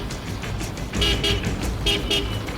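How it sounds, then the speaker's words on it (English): A car horn honks in short toots on a winding Indian mountain road to Shimla, sounding repeatedly over steady engine and road noise close by. "Gotta honk the horn on every corner."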